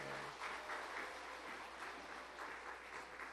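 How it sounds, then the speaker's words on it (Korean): Sustained applause from a church congregation during a family worship service, a dense steady clatter of clapping filling the room throughout with no talk over it. "큰 박수 하겠습니다."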